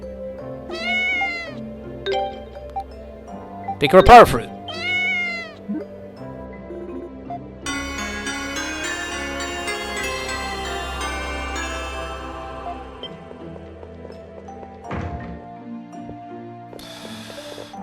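A cat meows repeatedly inside the video game Ys IV: Memories of Celceta, sharp mewing calls ringing over looping town music and game effects, with a brief line of voiced dialogue in the middle.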